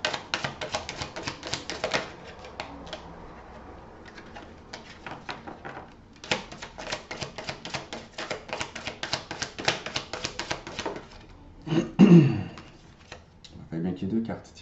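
Tarot cards shuffled and laid on a table during a reading, a rapid run of crisp slapping and ticking card sounds in bursts, close by, with brief pauses and a louder clatter near the end.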